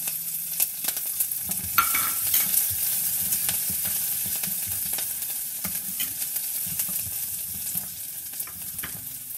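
Ginger and jalapeno fry in hot oil for a vegetable sabji, a continuous close sizzle with stirring scrapes and clinks from a utensil against the pan throughout.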